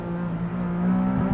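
Porsche Boxster engine revving toward 8,000 RPM, a smooth, restrained, tuneful tone that rises steadily over a brief moment.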